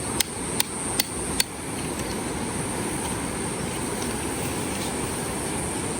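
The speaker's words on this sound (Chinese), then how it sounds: "下钉呢，下去往斜45度角下钉" A hammer drives tent stakes into the ground at a 45-degree angle while a Zane Art GIGI-2 tent is pitched at a campsite. Four sharp, evenly spaced strikes ring out close by, followed by a steady wash of outdoor background noise.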